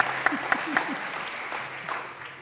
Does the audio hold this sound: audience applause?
yes